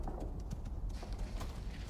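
Hooves of a buffalo mount thud and clop steadily in the video game Icarus, on a volcanic map, a fast continuous gallop rhythm under low rumbling ambience.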